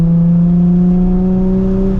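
Nissan 350Z with manual gearbox pulling under acceleration after a gear change, a steady loud engine drone with a rising harmonic tone heard from inside the cabin, continuous with no talk.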